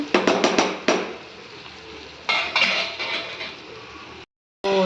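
A metal spoon clanks repeatedly against a pan while mixing ginger garlic paste in oil, with sharp close clinks in quick bursts, a short pause, then more scraping and clattering, abruptly cut off.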